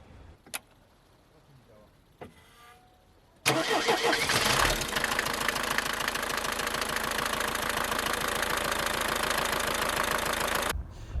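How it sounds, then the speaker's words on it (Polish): After a couple of faint clicks, the longitudinally mounted four-cylinder naturally aspirated diesel engine of a Mercedes 190 cranks and fires, then runs with a loud, steady rattling clatter until it abruptly stops. "Mamy tutaj wzdłużnie ułożony czterocylindrowy, wolno ssący diesel"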